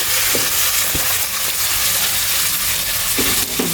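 Shrimp sizzles loudly as it drops into a hot pan of sautéed garlic, onion and softened tomato for ginisang upo, a steady frying hiss broken by a few sharp stirring clicks.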